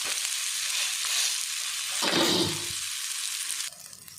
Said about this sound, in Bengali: এই দেখুন এটা এর ভিতরে আলুটা ভাজা হয়ে যাবে